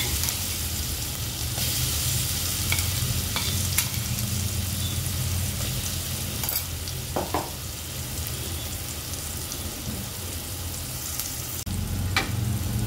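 Asafoetida and a crushed green chili, ginger and garlic paste sizzle and fry in hot oil, a continuous close crackle with occasional sharper pops and light stirring.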